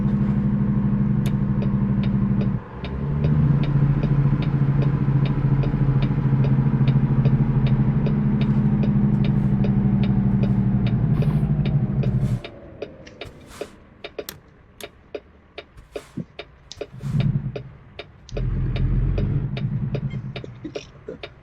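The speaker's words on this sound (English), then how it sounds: "Such as this gorgeous FLD that just pulled up." Deep, steady diesel rumble from a Freightliner FLD semi truck idling close by, its engine drone dropping out partway through, followed by intermittent clanks and softer engine bursts.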